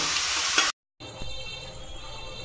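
Mango pieces fry in mustard oil in a wok for mango pickle, making a close, busy sizzle that cuts out briefly, then returns softer with a light stir.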